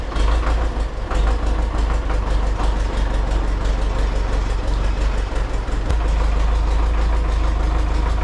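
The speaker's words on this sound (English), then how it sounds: "first I gotta get this tractor out of here" A tractor's diesel engine runs steadily and loud close by as it is driven out of a home garage, a constant low rumble with a brief dip near the end.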